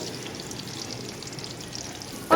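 Finely chopped onions frying in hot oil in a kadai for chicken curry, a soft continuous sizzle that ends in a short louder clatter.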